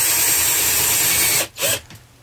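A power drill bores through a strip of material holding adhesive-tape rolls, a loud steady whine running about a second and a half before cutting off, followed by a brief second burst and a fading tail.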